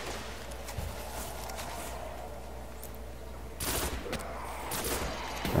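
Gunfire in the Destiny shooter game, dense overlapping shots in sustained bursts, with heavier volleys near the end over a constant low game drone.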